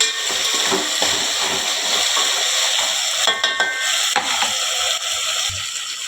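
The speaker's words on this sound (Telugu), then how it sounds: "చూడండి ఫ్రెండ్స్, ఇట్లా మంచిగా వేయించుకోవాలి" Vegetables frying in a pan for vegetable rice, a close, constant sizzle broken by scraping and clinking stirring strokes, with no voices.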